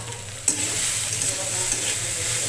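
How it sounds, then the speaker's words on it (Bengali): Banana flower is stirred and fried in oil, a loud steady sizzle with a sharp clack of the spatula near the start and continuous stirring scrapes. "এইভাবে মোচাটাকে তেলের উপর কিছুক্ষণ ধরে ভেজে ভেজে নিব আমি।"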